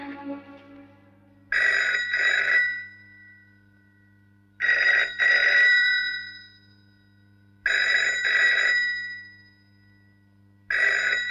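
A telephone bell in an Indian home in a Hindi film rings in four loud, regular double bursts separated by pauses, with no voices.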